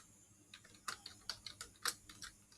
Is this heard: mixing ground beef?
no